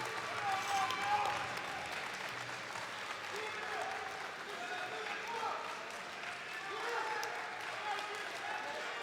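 An indoor crowd at a European classic powerlifting championship applauds a heavyweight lifter, a steady wash of clapping and cheering heard from a distance, with a commentator talking over it.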